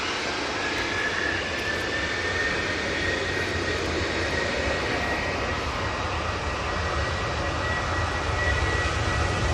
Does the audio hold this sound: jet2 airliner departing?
yes